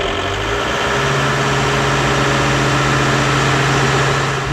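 A 1997 Toyota Land Cruiser's engine runs at a steady, loud idle throughout, a continuous low rumble with a constant mechanical drone.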